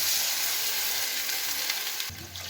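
Water poured into a pan of chicken soup sets off a loud, steady sizzling hiss that runs almost throughout, then thins and shifts near the end as the flow stops; no voices.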